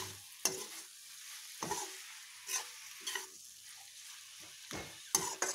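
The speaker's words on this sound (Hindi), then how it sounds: "ये देखिए, हमारी पत्ता गोभी के टमाटर भी पक चुके हैं। इसे हम अच्छे से चला लेंगे।" A spoon stirs cabbage and tomato sabzi in a pan, with a few scraping strokes spaced out over a faint sizzle, close and fairly quiet.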